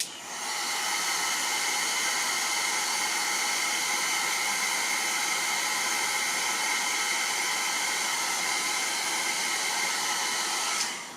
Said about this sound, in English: with the hair dryer